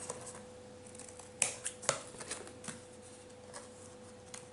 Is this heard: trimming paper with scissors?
yes